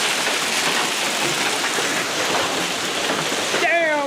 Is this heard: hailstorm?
yes